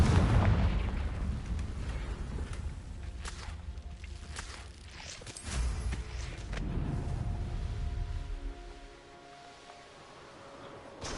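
A deep, rumbling magical explosion from the Confringo spell in the game Hogwarts Legacy, with booming blasts and crumbling debris over a dense low roar that fades toward the end.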